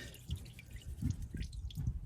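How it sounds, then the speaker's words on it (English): Engine oil drips from a 2020 Hyundai Santa Fe 2.4L into a drain bucket after draining, a few soft, irregular close drips sounding faintly against a quiet background. "this has pretty much stopped dripping"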